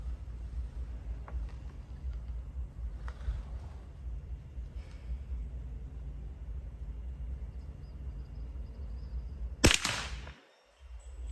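A single sharp report from a CZ 457 Lux .22 LR rifle at an outdoor range, loud and close, standing out abruptly over a steady low rumble of background noise.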